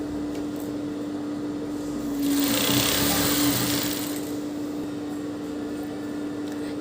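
Sewing machine stitching a fall onto a saree, a steady mechanical whir that swells louder for a couple of seconds in the middle over a constant low hum, with no talking.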